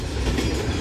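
A NOPB 2000 train passes southbound toward downtown New Orleans, Louisiana, heard as a close, steady low rumble of rolling rail cars with no horn.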